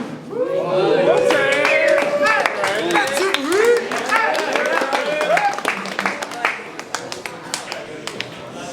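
Rap battle crowd cheering, whooping and clapping loudly close by, with voices shouting over one another, then thinning into scattered claps toward the end.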